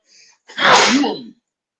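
A single loud, close sneeze bursts out after a faint intake of breath, then silence follows.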